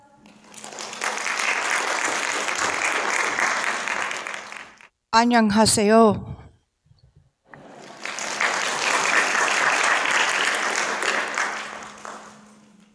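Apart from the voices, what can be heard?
big applause for a speaker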